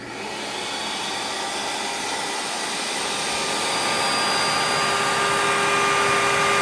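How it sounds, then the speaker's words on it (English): A Rainbow E2 single-speed canister vacuum motor runs with a loud, steady whine and airy roar that builds slightly in volume, alone with no speech. "the motor on these single-speed E-Series have a very distinct sound compared to the two-speed brushless motor"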